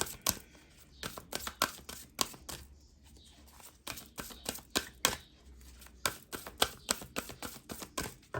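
Energy oracle cards are shuffled by hand in a rapid series of crisp riffling slaps and flicks, close and fairly soft, in irregular bursts with brief pauses, and no voice over them.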